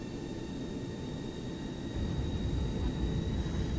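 In the X-Plane 11 flight simulator, an airliner's engines hum at a steady, low roar as throttle is applied to begin taxiing. The rumble swells noticeably halfway through and holds there. Faint steady tones sit above it.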